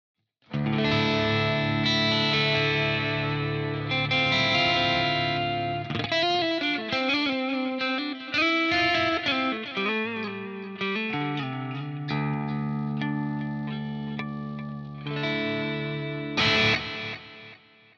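Electric guitar through a Quad Cortex amp modeler with single-coil pickups, playing chords and melodic lines, ringing with a fairly clean tone and some shimmering modulation, no voices.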